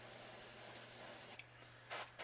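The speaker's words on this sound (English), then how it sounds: "I do it from an angle, so some of that overspray will go towards the back of the bait and fade out a little bit." An airbrush sprays paint onto a blue gill crankbait lure, giving a soft, steady close hiss that briefly cuts out and resumes in short breaks near the end.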